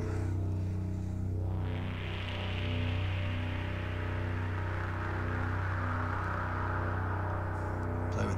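A sustained synthesizer drone sent through delay and reverb, with steady low tones and a wash of hissy, echoing texture that swells after a moment and lingers with shifting resonances.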